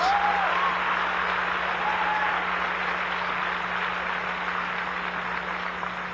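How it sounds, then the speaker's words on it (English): Steady applause from a large audience at a sermon fills the whole stretch, a dense even wash of clapping with no voices on top. "I don't know why you're clapping."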